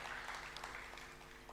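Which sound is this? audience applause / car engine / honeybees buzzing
audience applause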